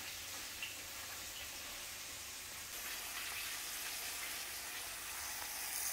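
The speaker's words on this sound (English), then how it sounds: "Just going to sear it real good on each side." A chuck roast searing in a Dutch oven, a steady, faint hiss and crackle of hot fat that holds evenly throughout with no talking.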